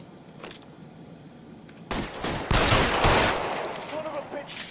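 Bursts of gunfire from a PS4 shooter game ring out after a quieter stretch, loud rapid volleys sustained over several seconds with a faint voice underneath.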